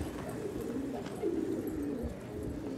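Pigeons cooing on a rooftop, low soft throaty coos repeating close by over steady background noise, with no talking.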